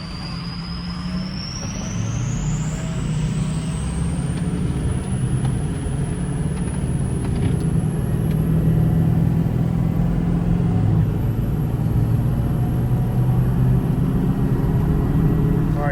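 A Ford 6.0 diesel pickup truck with a standpipe, STC and branch tube delete kit is being driven, giving a steady low engine rumble and road drone heard from inside the cab, with a rising whine and no talking.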